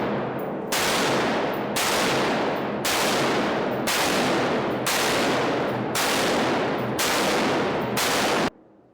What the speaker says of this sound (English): demonstrates how powerful an automatic rifle is